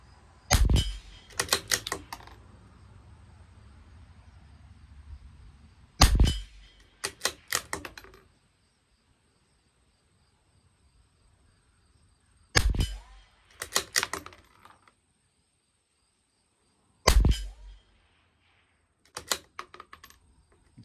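Sharp, loud cracks come from a CZ 457 LRP rifle firing Lapua Super Long Range supersonic ammunition at a 50-yard range, with single shots spaced several seconds apart, each followed by brief clacks of the bolt being worked.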